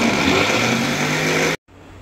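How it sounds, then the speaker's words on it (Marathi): A kitchen mixer grinder whirs loudly and steadily while grinding semolina, then cuts out abruptly for a brief pause before starting up again in short bursts. "आता मिक्सर फिरवताना थोडा थोडा फिरवायचा."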